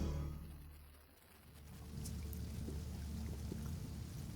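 Water pours steadily in the Sheltered video game as a drink is filled, a continuous rushing splash that dips briefly and then holds loud to the end.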